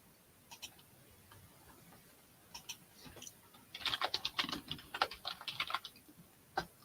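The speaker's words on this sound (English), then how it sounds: "Don't have sticky fingers when I'm typing here." Keystrokes on a computer keyboard during a live online auction of vintage items, starting as sparse isolated taps and then turning into a dense burst of fast, fairly quiet clicking, with one last sharp tap at the end.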